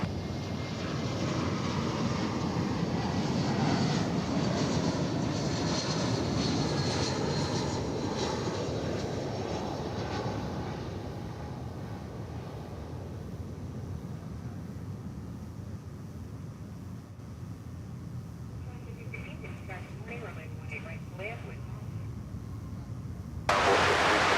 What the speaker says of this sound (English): we now have American Flight 2754 coming in from Chicago O'Hare